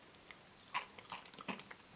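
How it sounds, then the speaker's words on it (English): A Burger King Baby Burger, Party Edition, is bitten into with a sharp crunch, followed by a few faint chewing crackles over about two seconds in a quiet room, close up and alone. "Did you hear the crunch?"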